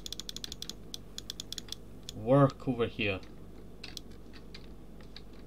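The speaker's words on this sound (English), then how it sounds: "You can hear me clicking my mouse," Computer mouse clicking while working in the Easy Red 2 map editor: a quick run of sharp, close clicks, then someone speaks briefly, followed by a few sparser faint clicks over a low background hum.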